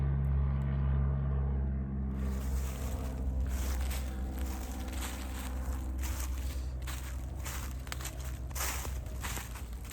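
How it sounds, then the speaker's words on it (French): A plane passes overhead outdoors, a steady low broadband roar that holds loud through the whole stretch, with a brief brighter hiss joining after the opening seconds and no one talking. "Peut-être juste laisser passer l'avion, je ne sais pas si vous l'entendez fort."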